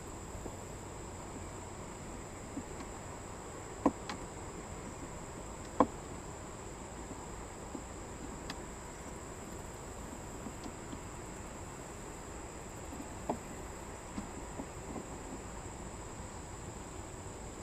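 Honeybees hum steadily around an open hive during a late-August inspection, a faint, even buzz with a few soft clicks and taps from handling the frames, and no voices.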